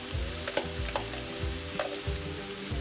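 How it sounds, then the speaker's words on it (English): Shrimp frying in a pan for a spicy diabla dish, a loud steady sizzle with intermittent clanks and scrapes of a utensil moving food around, close by. "And then we're gonna add our shrimp here"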